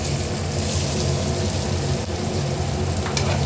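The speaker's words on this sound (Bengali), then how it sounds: "পেঁয়াজটা ভালো করে ভেজে নেব" Onions fry in hot oil in a wok seasoned with a bay leaf, giving a loud, steady, close sizzle that runs unbroken from start to finish with no talking.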